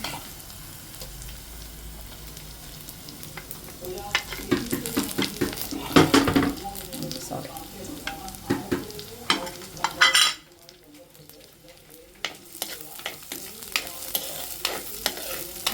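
Onions fry in a pan for a fish curry, with a continuous sizzle broken by clattering bursts of a spoon stirring and scraping the pan, loudest midway before settling back down.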